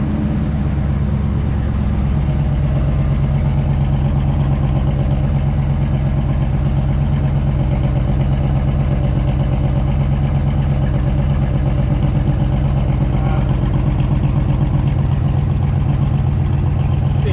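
A 1965 Ford Fairlane 500 V8 runs loud and steady with the choke held, its rough mid-range engine note droning continuously throughout with slight surges.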